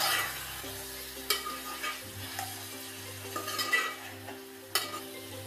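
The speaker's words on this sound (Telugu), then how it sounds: "మటన్ వేసి బాగా ఒక్కసారి కలుపుకోవాలండి." Mutton pieces stirred and mixed in a hot pan for Andhra-style raw mango mutton, sizzling softly with a few sharp spoon-against-pan scrapes and knocks at irregular intervals, close by with no talking.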